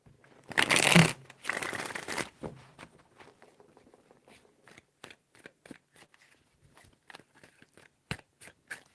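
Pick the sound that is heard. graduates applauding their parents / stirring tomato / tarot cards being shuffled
tarot cards being shuffled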